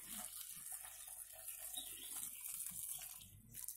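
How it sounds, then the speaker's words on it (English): Boiling water is poured over gooseberries in a pot for jam, a soft, continuous splashing trickle that stays close and quiet throughout. "Now we're going to add a bit of boiling water."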